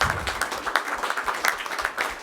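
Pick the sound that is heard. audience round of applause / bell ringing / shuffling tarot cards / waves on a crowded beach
audience round of applause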